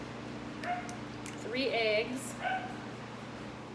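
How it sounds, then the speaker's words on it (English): Dogs in a home kitchen give a few short yips and a drawn-out whimpering whine, moderately close, while someone talks through cake preparation. "Excuse the dogs."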